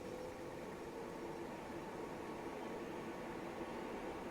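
A DR. J Professional air purifier for large rooms runs at a higher fan speed, giving a steady, faint, even whoosh of moving air like soft white noise, with no voices.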